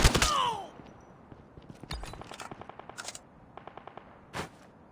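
Gunfire in the battle royale mode of Call of Duty Mobile on Android: a sharp opening burst, then rapid automatic fire in short rhythmic volleys and a final crack, close and punchy.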